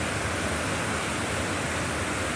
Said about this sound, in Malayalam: ഈ കലുങ്ങിൻ്റെ കീഴേ കൂടെ കയറി പുഴ താഴോട്ട് ഒഴുകുവാണ്.